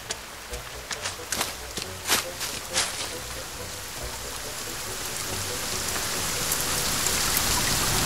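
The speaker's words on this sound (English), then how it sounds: "Okay, Rain, I get it! You're loud!" Steady rain in the video game The Forest hisses and patters, growing louder toward the end, with a few sharp clicks and thumps early on and no talking.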